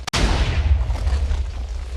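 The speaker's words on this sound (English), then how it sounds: "Some faint explosions." Several faint, muffled explosions in the video game Minecraft, a low rumbling series of booms following one sharp initial thump, with no talking.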